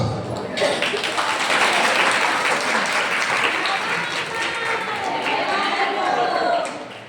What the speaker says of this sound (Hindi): ताली कितनों ने बजाई